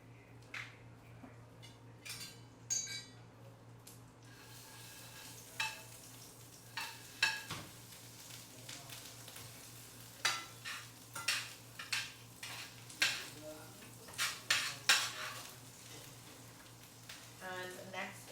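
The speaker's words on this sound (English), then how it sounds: "So now I'm just going to put the herb butter into a saucepan" Herb butter melts and sizzles in a saucepan over medium heat with a soft, steady fizz, while repeated metal utensil clinks and scrapes tap out an irregular rhythm close by.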